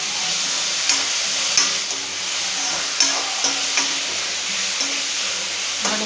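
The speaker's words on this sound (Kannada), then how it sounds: "ಈಗ ಸಣ್ಣ ಕಟ್ ಮಾಡಿ ಟೊಮೆಟೊನ ಅದು ಸ್ವಲ್ಪ ಒಂದು 10 ನಿಮಿಷ ಎಣ್ಣೆ ಫ್ರೈ ಆಗಲಿ." Chopped tomatoes sizzle steadily in hot oil in a pan, a constant close frying hiss with a few light clicks of stirring.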